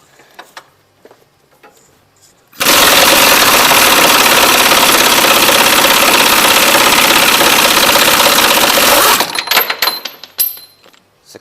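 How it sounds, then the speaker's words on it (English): An impact gun loosens bolts during a Cummins engine swap, producing one long, very loud, sustained rattling whir lasting several seconds up close, followed by softer clinks and handling noises. "now with those out of the way, we can get the impact gun in here"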